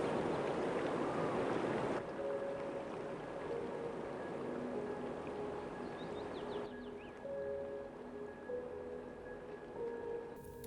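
Loud, continuous rush of a cold mountain river in the Himalayas of Nepal, flowing over big slippery stones, dipping slightly after a couple of seconds, with faint tonal background sounds over it.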